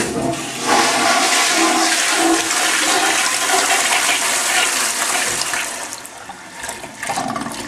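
A household toilet flushes close by, with a loud, steady rush of water that swirls and drains for several seconds before tapering slightly, and no voices.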